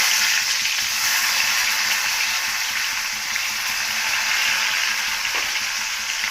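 Thinly sliced red onions dropped into a hot oiled pan for egg bhurji, a loud, dense, continuous sizzle and hiss up close, with barely any stirring and no talk.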